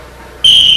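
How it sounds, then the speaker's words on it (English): A sharp, loud whistle blast cuts in after a brief quiet moment and holds steady to the end, signalling the start of a training drill. "On a whistle."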